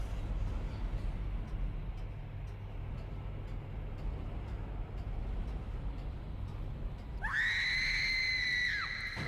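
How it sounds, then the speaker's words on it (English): A shrill, sustained scream in the Dead Space horror game bursts in near the end and holds loud for about two seconds over a steady, rumbling ambience. "that was a long scream"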